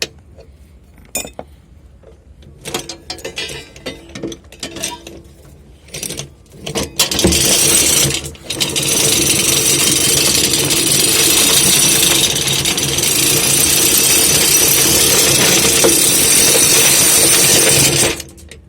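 On an anchoring boat, scattered metallic clinks and ratchet clicks from the anchor chain stopper give way to a loud, sustained rattling roar of chain running out.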